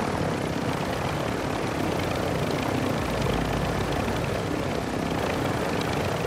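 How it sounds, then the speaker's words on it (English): Helicopter in Call of Duty Warzone 2.0 DMZ, a constant loud rotor and engine roar filling the scene without letup, with no speech. "Why my helicopter breaking?"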